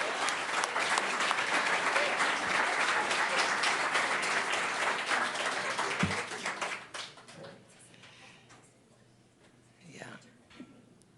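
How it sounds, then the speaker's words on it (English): A storytelling-show audience applauds Johnny and Elon with loud, dense clapping for about six seconds before it thins out and fades, leaving a quiet room with faint murmurs. "Another round of applause for Johnny and Elon."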